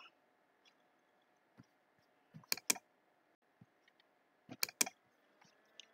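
Quiet clicks of someone typing on a computer keyboard come in a few short bursts over a low room hum, with long gaps between the keystrokes and no voices.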